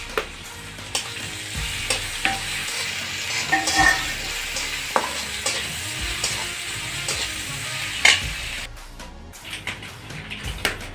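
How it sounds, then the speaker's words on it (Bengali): Shrimp frying in a pan with onion and garlic already fried, a steady sizzle broken by scraping stirs and clinks of a utensil, close and continuous. "এখন দিয়ে দেব চিংড়ি মাছ।"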